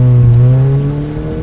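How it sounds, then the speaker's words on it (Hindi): A car engine holds a loud, steady droning tone as it speeds up in fifth gear, swelling slightly before gradually fading. "यह कहकर प्राची ने 5वें गियर में गाड़ी को तेजी से चलाना शुरू कर दिया।"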